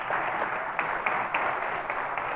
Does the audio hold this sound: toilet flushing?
no